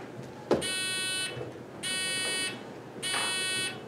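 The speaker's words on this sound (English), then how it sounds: "everybody's buzzers are working." Three electronic buzzer tones, each sustained under a second, separated by short pauses, loud and close, with light background noise between them.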